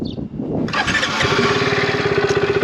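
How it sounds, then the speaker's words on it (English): A Peugeot XP400 motorcycle engine cranks and catches at close range, settling into a steady, loud, rapidly pulsing idle while warming up with the side stand down. "That's why you can start the engine to warm up with the side stand down."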